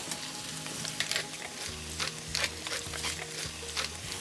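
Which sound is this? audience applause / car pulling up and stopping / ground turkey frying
ground turkey frying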